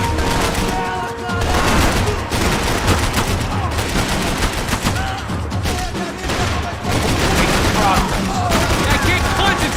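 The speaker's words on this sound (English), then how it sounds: "I can't concentrate with bullets whizzing past my head!" Dense, continuous gunfire from the Max Payne 3 video game, rapid automatic bursts and overlapping shots with bullets whizzing past, loud and close throughout the whole stretch under a busy game soundscape.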